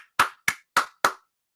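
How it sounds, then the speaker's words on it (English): Four sharp, evenly spaced hand claps ring out close and loud, each a crisp slap with a short decay, then silence. "Let's give her a round of applause."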